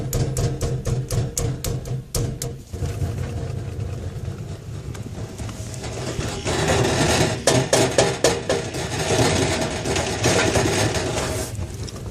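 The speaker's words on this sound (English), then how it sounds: "Just got home from the gym and started hearing some rattling noise." A car's gear shifter rattles with a rapid, uneven run of metallic clicks and taps over a steady low engine idle, close to the microphone, growing busier and louder in the second half.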